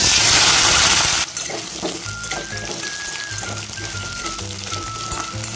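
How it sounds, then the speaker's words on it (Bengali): Potatoes hit hot mustard oil with a loud burst of sizzling that settles into a steady, crackling fry, with a few faint clinks of utensils. "এবার কেটে রাখা আলুগুলো আমি তেলের মধ্যে দিয়ে দিচ্ছি ভাজার জন্য"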